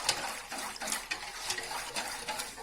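Water pours into a mold, a soft, continuous trickling splash with small fluctuating bursts, fairly faint and heard alone.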